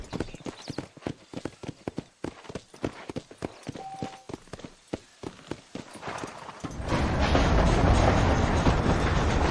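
In Red Dead Redemption, horse hooves clip-clop at a steady trotting rhythm, crisp and close, for several seconds. A broad rushing roar, like moving wheels or wind, then takes over and drowns out the hoofbeats.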